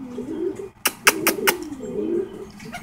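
Domestic pigeons coo in a low, rolling murmur that runs through the whole span, close by, with a few sharp clicks or taps standing out in the middle.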